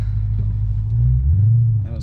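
A tuned 2007 Audi B7 RS4 engine rumbles low and steady while driving, heard from inside the car with a slight rise in pitch partway through.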